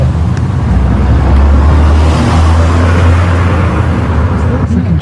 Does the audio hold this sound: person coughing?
no